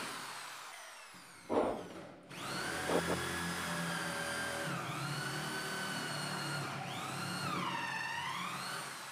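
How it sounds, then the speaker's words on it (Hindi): A power drill boring holes into 18 mm wood pieces for a sofa frame, a steady whining motor with shifting pitch that runs continuously for several seconds after a brief knock, close and fairly loud. "जो हमने होल निकाले थे वो होल हम इसके अंदर फिर से निकाल लेंगे"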